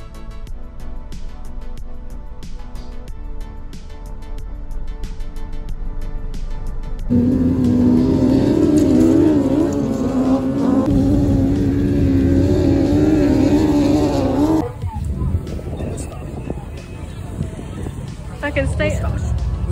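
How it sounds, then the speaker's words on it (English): Autograss race car engines rev on a dirt track, a rising and falling engine roar that swells loudest in the middle section, heard under steady close talking. "My engine was going really, really well."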